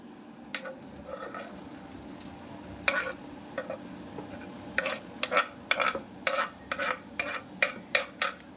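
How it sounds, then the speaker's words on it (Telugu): Shredded cabbage and vegetables frying in a pan, a low steady sizzle under irregular scraping and clacking strokes of a stirring spoon that grow busier toward the end. "ఇప్పుడు దీన్ని చక్కగా మనం తిప్పుకుందాం."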